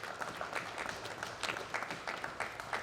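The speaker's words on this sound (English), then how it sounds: "just give a big round of applause for our celebrity fighters that have showed up today" Applause for celebrity fighters at a combat-sports press conference, a steady moderate patter of clapping from a modest crowd with scattered sharper claps, no voices over it.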